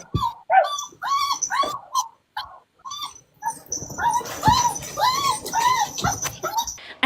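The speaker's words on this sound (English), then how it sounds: "They sound like somebody's, like, hurting them or they're being abused." Several dogs whimper and cry in a repeated run of high, wavering yelps, loud and close, with a second denser burst of whines following a brief pause.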